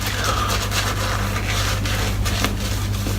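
A shaving brush paints lather across a face with close, steady scratchy rubbing strokes, each brushing pass audible in a continuous rhythm without any talk.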